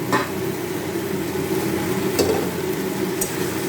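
Potatoes and duck eggs going into a masala that's already frying: a steady, close sizzle with a spoon stirring and scraping through it, and one brighter clink of the spoon partway in. No one talks.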